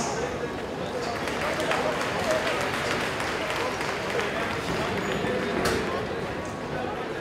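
Applause from the audience at an equifeel horse show at the Paris horse fair, a steady dense clapping that fills the whole stretch at close range, with a crowd murmuring under it.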